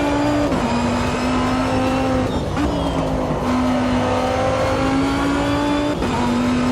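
A race car engine in the sim racing game Automobilista 2 drones loud and steady on cold tires, its pitch dipping briefly at quick gear shifts before climbing again; no voices.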